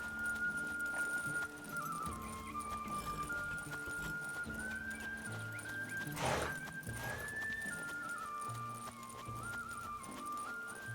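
Geralt's horse Roach in The Witcher 3, clip-clopping hooves with a whinny rising midway, set against game music and ambience at a moderate level.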